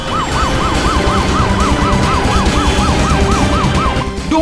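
A wailing emergency siren rises and falls in rapid, regular cycles, loud and close, sounding steadily with traffic rumble underneath.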